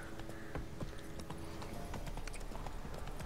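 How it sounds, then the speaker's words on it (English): Horse hooves clip-clop steadily on a road in The Witcher 3, a continuous rhythmic trot of close hoofbeats over faint game ambience. "Hey, here comes our horse."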